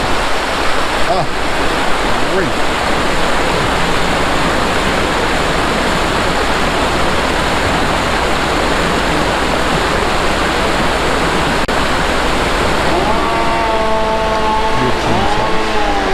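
A rushing river roadside near Gatlinburg during road closures, a loud steady broadband roar of water filling the whole stretch, with brief talk and a passing engine tone near the end.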